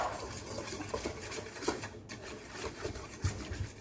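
Stirring fish with paprika powder in a pan: scraping and clinking of a utensil against cookware, irregular strokes close up, no speech.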